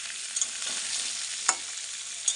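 Young jackfruit and potato pieces frying with salt in a pan. A bright, continuous sizzle sounds close, broken by three quick stirring clacks.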